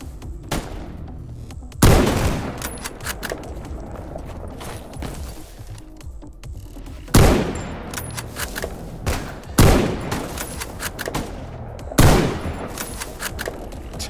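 Gunfire in a video game: repeated loud, sharp shotgun-style blasts with a few mechanical clicks and clatter between them, rising over steady ambient noise and spread out across the clip.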